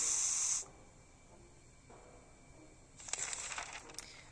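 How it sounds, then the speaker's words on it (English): Bug spray in the video game 60 Seconds gives a sharp, loud burst of aerosol hiss lasting half a second, then quieter, rougher spraying a few seconds later. "We'll use some bug spray."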